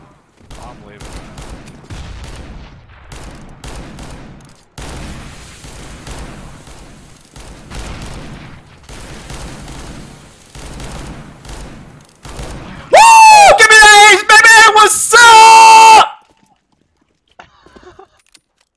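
Revolver shots in a video game come as a steady sequence of sharp cracks with brief gaps, followed by a burst of loud, tonal, distorted game sounds near the end.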